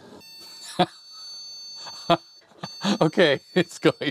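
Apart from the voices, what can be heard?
IBM PC 5150 beeping through attached speaker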